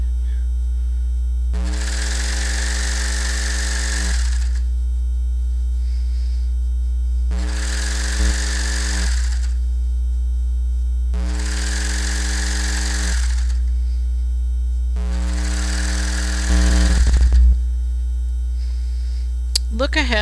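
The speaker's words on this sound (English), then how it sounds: "Look ahead when you're serging, especially a long pant leg" A serger overlock machine stitches a long denim jeans leg, running in four separate whirring bursts of a few seconds each over a steady electrical hum, with no talking.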